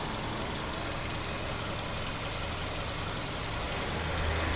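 A 2008 Audi A3 1.6 MPI petrol engine with automatic transmission idles steadily throughout, a continuous low mechanical hum with a slight rise in rumble near the end.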